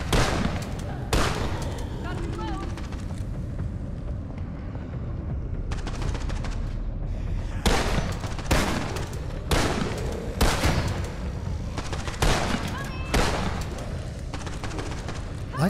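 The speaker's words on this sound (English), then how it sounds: "Look how the guys shooting also shoot the enemies" Rapid bursts of gunfire from enemies shooting in the game Blackout Protocol, a dense run of sharp repeated shots and booms across the whole stretch, loud and near, with a player talking over it.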